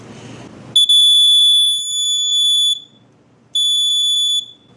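A First Alert SA120 smoke alarm under test sounds loud and high-pitched in two long pulsing blasts separated by a brief pause, after a short rustle.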